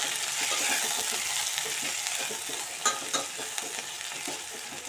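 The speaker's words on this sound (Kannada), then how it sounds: "ಅದನ್ನು ಸ್ವಲ್ಪ ಈಗ ಎಣ್ಣೆ ಫ್ರೈ ಮಾಡೋಣಂತ್ರಿ" Green chili and cumin paste frying in hot oil, a steady close sizzle with soft stirring scrapes and a couple of sharper spoon taps near the end.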